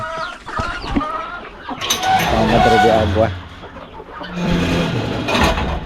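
Farm chickens cluck and chatter near the coop in a backyard setting, while someone speaks briefly over the steady flock noise.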